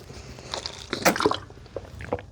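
Someone drinks from a water bottle, with a few wet gulps and sloshes close to the mic, then a sharp thud as the bottle is set down at the end.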